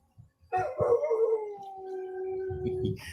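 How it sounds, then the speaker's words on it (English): Birdie, a dog, howls in a long, wavering cry that begins abruptly and holds for a few seconds, close and clear with some rustling below. "There's my dog."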